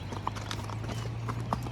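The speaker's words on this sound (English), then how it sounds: "there's some stallion horse" Hooves of a stallion clop steadily on the ground on a wilderness trek in Kyrgyzstan, a continuous uneven rhythm of close footfalls with a faint whinny-like tone and a low steady hum beneath.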